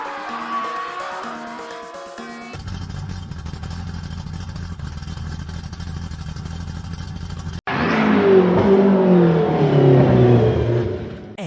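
A Honda car engine revving and accelerating in an animated street-racing scene, starting under musical tones, then a steady mechanical drone that jumps into a louder, rising roar near the end.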